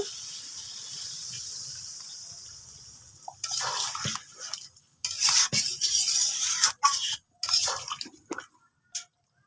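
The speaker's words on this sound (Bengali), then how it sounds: "এই যে এখন পানি দিয়ে দেবো" Water is poured into a pan of cooked, oil-glossed meat curry, giving a loud splashing, stirring wash with clinks of a spoon against the pan in uneven bursts after a quieter opening.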